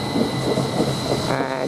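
A British Rail Class 333 electric passenger train on the Settle–Carlisle line rumbles steadily and loudly nearby, a continuous roar with a faint high whine, and no talking.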